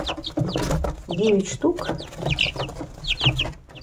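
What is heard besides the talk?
young chicks clucking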